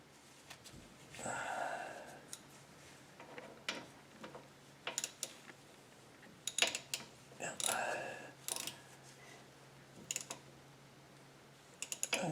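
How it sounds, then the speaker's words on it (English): A ratchet wrench tightens the rear differential cover bolts on a Chevy Colorado, giving bursts of rapid clicking and metallic clanks, close and fairly quiet over a low background hum. "Now I'll tighten that up to spec."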